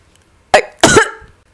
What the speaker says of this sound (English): fell into a harsh coughing fit